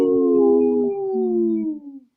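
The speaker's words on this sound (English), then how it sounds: "Yeah, I could hear 3 howls." Wolf howls broadcast over radio, long sustained tonal calls with overlapping voices gliding slowly downward, loud and continuous, then fading out at the end.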